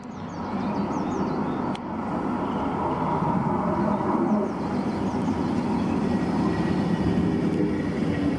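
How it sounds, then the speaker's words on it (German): Pöstlingbergbahn trams meeting at the Oberschableder passing loop on the single-track line, a steady loud rumble of rolling rail vehicles with faint high squeals of wheels on curved track, continuous without speech. "hier treffen sich halt immer zwei Pöstenbergbahnen, um halt gegeneinander auszuweichen"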